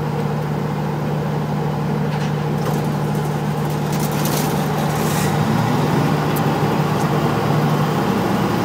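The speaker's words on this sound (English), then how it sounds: "we need to activate the second generator. Okay, so we start it up in manual." A second generator runs up in manual mode with a loud, steady engine drone and a low hum whose pitch shifts slightly as it comes up to speed, continuous and close.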